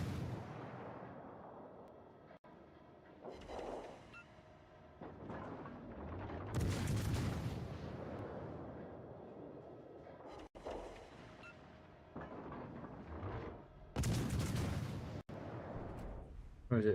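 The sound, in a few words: naval guns firing armour-piercing shells in a warship video game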